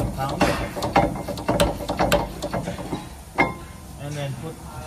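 A ratchet clicks in quick bursts while a rear brake bolt on a Ram ProMaster 2500 van is tightened, with a person talking over the clicks.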